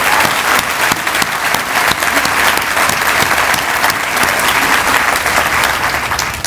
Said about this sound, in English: So I want to applaud and join me in applauding all of the workers that work there.